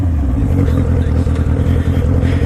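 Motorcycle ridden down a set of stairs, its engine running loud and steady at close range with a dense low rumble throughout.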